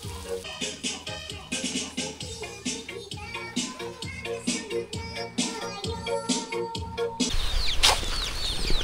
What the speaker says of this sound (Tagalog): Aring mga sisiw na ari sigurado ako'y kagulo din si Chokoy